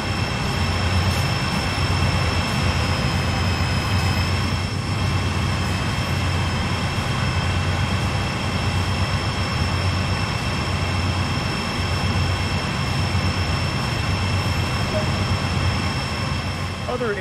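Diesel freight locomotive on Sand Patch Grade in Train Sim World 2, a steady loud engine drone with a low rumble and sustained tonal whine running unbroken throughout, heard from outside the train.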